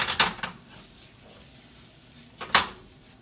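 A spatula scrapes and clinks around the edges of a cheese omelette in a pan, a few sharp scraping strokes at the start and one at the end, with quiet faint sizzle between.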